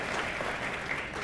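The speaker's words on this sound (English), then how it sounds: "So can you all give them a round of applause again?" Warm applause from a banquet audience honoring award recipients at a women's distinction event, a steady, dense clapping that fills the room evenly throughout.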